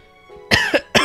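A few short coughs, one weak then two loud bursts spaced apart, close to the microphone after a quiet start, heard during a Terraria gaming session.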